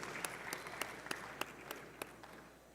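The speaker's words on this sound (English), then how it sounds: "Let's give him a round of applause, please." Sparse, faint handclaps from guests and members in the session hall of the House of Representatives, a few separate claps in an uneven rhythm heard at a distance in a large chamber.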